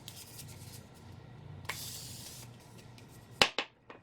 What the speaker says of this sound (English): I'm just going to put a little bit of setting spray on my face.